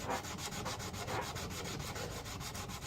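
A hand file rasps along a knife blade in steady back-and-forth strokes, a close, loud and evenly repeating scraping rhythm with no talking.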